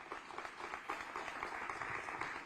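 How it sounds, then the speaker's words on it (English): Steady, fairly faint applause from an audience at a public meeting in Houston on equity, an even wash of many hands clapping without pause for the whole stretch. "So I just want to acknowledge you and just give him applause for that work."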